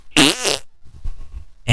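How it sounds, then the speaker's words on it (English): Fake fart sound effect: a loud, close, buzzy blast with a wobbling pitch lasting about half a second, then a quieter rumbling stretch and the start of another burst at the very end, no talking. "It's not a real fart."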